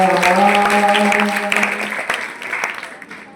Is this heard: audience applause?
yes